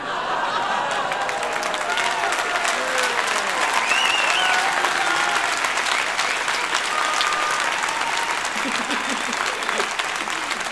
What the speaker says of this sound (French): Je sais pas si c'est des applaudissements de rigolo ou c'est des applaudissements.